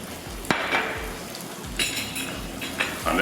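Onions frying in oil in a pan, a soft sizzle beneath repeated clinks and scrapes of a utensil against the pan, close by and with no talk.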